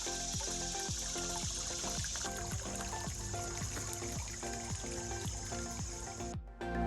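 A small stream flows beside a hiking trail in Virginia, giving a faint, steady trickle and gurgle of water throughout, with no talking.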